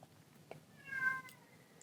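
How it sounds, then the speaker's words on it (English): A house cat lets out a single loud, drawn-out meow, near and clear against a quiet room, lasting about half a second with a couple of faint clicks around it. "I'm sorry if you can hear my cat screaming at me in the background."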